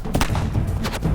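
Wartime gunfire cracks in woodland beside a train: two sharp, booming bursts about a second apart, loud and close over a rumbling background, with no talk.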